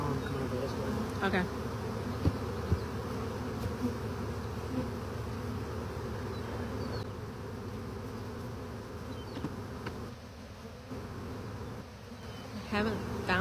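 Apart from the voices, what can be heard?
large honeybee swarm buzzing in a box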